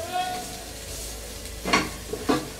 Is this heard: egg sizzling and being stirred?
yes